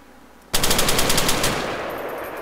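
Rapid automatic gunfire in the video game ArmA 3 bursts out suddenly after a short quiet moment, a loud close string of shots that tails off into a ringing echo.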